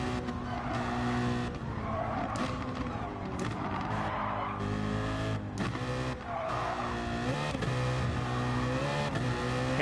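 A front-engined race car in Gran Turismo Sport revs up and down and skids with squealing tires through the corners, the engine note rising and falling and some tire screeches sharp and prominent.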